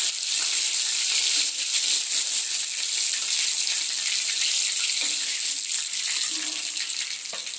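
Chicken balls deep-frying in hot oil, a steady, loud, dense sizzle that holds evenly throughout with no pauses or talk.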